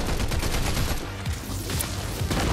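Rapid bursts of video game gunfire in a frantic firefight, dense repeated shots forming a steady barrage, loud and close throughout.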